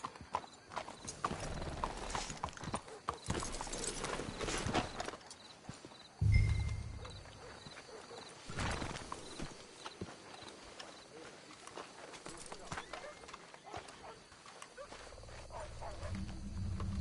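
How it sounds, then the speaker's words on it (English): Horses' hooves clip-clop in the Red Dead Redemption 2 video game, a steady trotting rhythm mixed with rustling, a brief thud and low rumbles, with game sound effects around it. "Let's hitch the horses up ahead."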